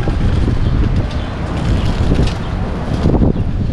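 Strong wind buffets the microphone in a constant heavy rumble on a Downtown Brooklyn street in New York City, with gusts rising and falling throughout and no other distinct sounds.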